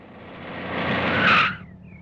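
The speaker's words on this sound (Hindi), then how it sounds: "ड्राइवर गाड़ी रोको।" A car brakes hard to a stop, its tires skidding and squealing as the sound rises to a loud screech, then cuts off abruptly, leaving a brief whine and a low idle.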